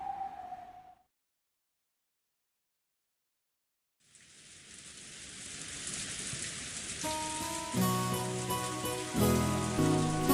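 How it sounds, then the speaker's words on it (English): Heavy rain pours down in a scene from the Umineko visual novel, a dense steady hiss rising after a brief silence, joined later by soft musical tones layered over the downpour. "Outside, the rain had started to pour down hard"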